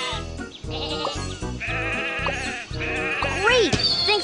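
Cartoon sheep bleat in a train video game, several short wavering calls over a steady rhythmic backing track, with a bright sliding effect near the end.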